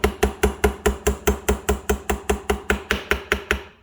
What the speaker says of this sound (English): I got to tap it in the rest of the way